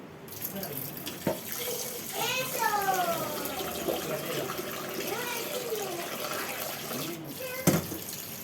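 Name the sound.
washing rice in running water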